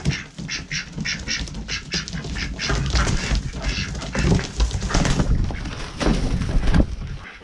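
Khaki Campbell ducks quacking in a busy, overlapping chorus, loud and close, with repeated nasal calls throughout.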